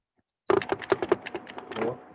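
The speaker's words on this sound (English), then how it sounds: "Who's on their keyboard, pounding their keyboard?" Computer keyboard typed on hard and fast after a brief quiet stretch, a burst of sharp clacking keystrokes at close range and uneven rhythm.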